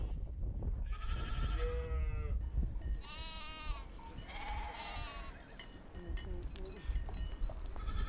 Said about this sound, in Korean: 주로 키우는 가축은 염소와 양이다.